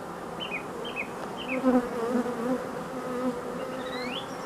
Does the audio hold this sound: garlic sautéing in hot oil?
no